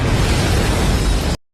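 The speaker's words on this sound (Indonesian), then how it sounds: "Pak Gabriel pun menembaknya dengan pistol rakitan." A gunshot from a homemade pistol in a film, heard as a loud, dense blast that fills the whole clip and then cuts off sharply into silence.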